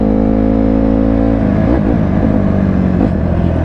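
A dirt bike engine drones loudly nearby, holding a steady pitch and then revving up and shifting in sweeping rises, heard at a busy lot.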